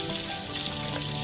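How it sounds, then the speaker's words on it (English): Tap water running steadily while fresh vegetables are washed in a sink, a close, continuous splashing hiss with no talking. "I took a mindful pause to wash the fresh vegetables."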